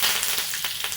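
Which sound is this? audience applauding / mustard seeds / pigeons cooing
mustard seeds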